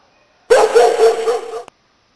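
A single dog bark sound effect, loud and close, lasting about a second, with no talking.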